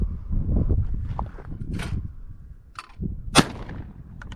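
A 24 gauge shotgun fires reloaded shells at clay pigeons outdoors, with one sharp loud report standing out late in the clip over low rumbling background noise and handling sounds.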